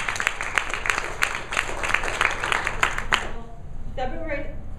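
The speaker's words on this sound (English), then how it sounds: "Let's have a round of applause." An audience at a motivational storytelling talk breaks into a round of applause, steady clapping from a moderate crowd that fades out near the end as room sound takes over.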